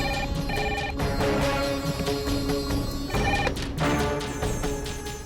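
A telephone rings in a household scene from a Hindi TV drama, with repeated bursts of a bright electronic ring, fairly loud and steady, and no one speaking.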